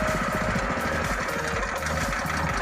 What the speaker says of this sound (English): Let the flywheel spin up again and just re-engage it.